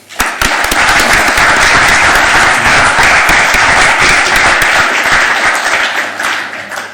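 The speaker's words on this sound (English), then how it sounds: "shall we thank Christoph with a round of applause?" Audience at a technical talk on tunnelling in hyperbaric conditions applauding the speaker, loud, dense clapping that swells quickly and holds steady before tapering off near the end.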